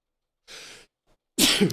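A sharp inhaled breath, a short pause, then a loud explosive sneeze close to the microphone.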